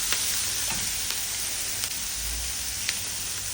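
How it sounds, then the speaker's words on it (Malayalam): Capsicum sautéing in a pan, a steady hiss of frying with a few faint crackles and light stirring taps, moderately close, no voices. "ഇത് വീണ്ടും സോട്ട് ചെയ്യുക."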